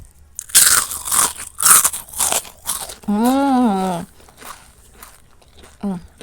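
Crispy flour-battered fried tempeh bitten and chewed, with a series of loud, sharp crunches up close, interrupted by a drawn-out appreciative hum from the eater and a final short vocal sound.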